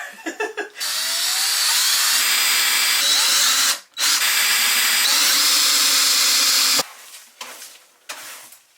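A power drill drives screws into a plywood floor inside a camper van under conversion, loud continuous whirring bursts that stop briefly midway, then a few short trailing bursts and clatter at the end.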